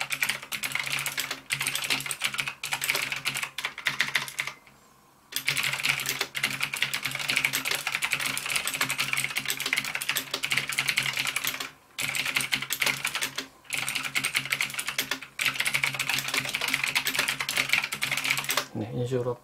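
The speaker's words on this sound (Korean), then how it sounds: "이런 식으로 빨리 고속 타이핑도 가능합니다" Rapid, continuous clacking of an NKEY R3 RGB mechanical keyboard being typed on fast and close up, broken by a few brief pauses.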